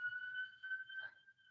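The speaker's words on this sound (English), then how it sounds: "Pardon the siren. We are in New York City," An emergency vehicle siren wails faintly from a distance on a New York City street, a thin sustained tone that swells and fades slightly over a short moment.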